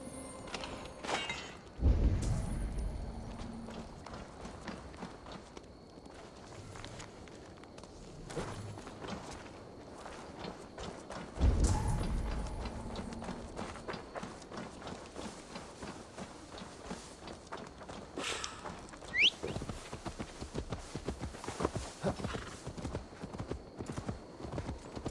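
Horse hooves clip-clop at a steady walking pace throughout, with occasional heavier thuds and a soft ambient background, in the video game Assassin's Creed Valhalla.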